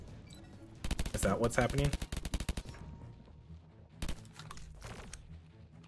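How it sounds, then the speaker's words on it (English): Rapid gunfire of fire bullets in the M.O.O.D.S video game, with dense, loud bursts of shots followed by a later short volley, and a voice briefly speaking over the action. "So she's going to shoot out fire bullets now, it sounds like."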